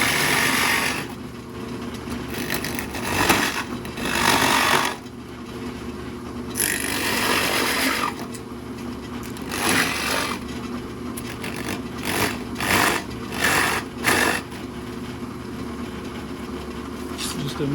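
Large Forstner bit hollowing out a carved wooden greater scaup drake duck decoy body, grinding in repeated bursts with brief pauses between cuts, close and fairly loud over a steady background hum.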